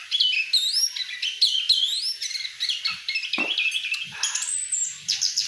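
An orange-headed thrush (anis kembang) sings close by, rapid bright whistled phrases and chirps running continuously, with a few faint low knocks in the background and no talk.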